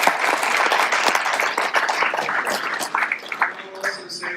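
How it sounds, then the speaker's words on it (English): Audience applause at an Armenian Bar Association awards gala luncheon, dense clapping from a room of guests that holds steady, then thins into scattered claps as it fades. "I want to give it a round of applause."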